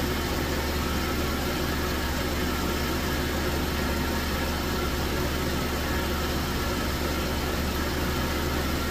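A car engine idles steadily and loudly, a constant low rumble with even vibration and no change in pace throughout.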